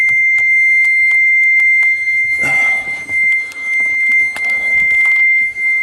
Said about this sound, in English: So you can hear an alarm.